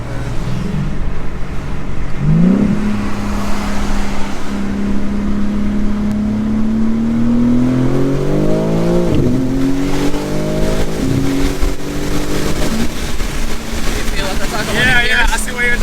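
A BMW M3 CS engine pulls hard through the gears in manual mode, its rising roar broken by distinct upshifts, with voices talking inside the cabin over the engine note.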